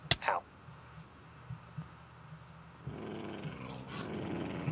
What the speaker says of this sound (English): I hear a wolf.